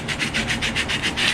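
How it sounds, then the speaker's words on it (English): Wood is worked with a rasp and sandpaper in quick, even back-and-forth strokes, about eight rhythmic rasping passes, close and fairly loud. "So I'm sanding them with a rasp and some sandpaper."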